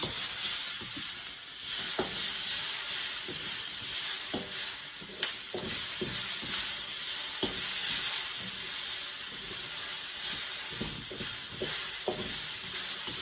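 Ingredients for a Chinese spicy and sour stir fry being tossed in a hot pan, a steady sizzle with scattered clacks of utensil against pan as everything is mixed back together, close and fairly loud, no talking.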